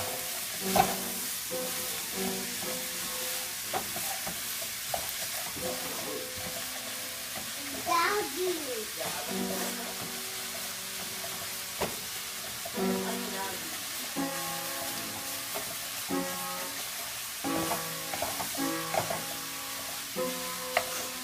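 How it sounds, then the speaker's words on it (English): Pork sausage sizzling in a pan as it is stirred, with a low sizzle under repeated scraping and tapping strokes, while music plays in the background. "You gotta keep it stirring so it doesn't stick to your pan."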